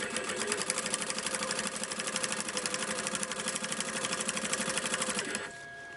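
Sewing machine stitching a seam on a quilted, lined crossbody backpack, a steady rapid mechanical chatter running close and loud without pause before cutting off abruptly near the end.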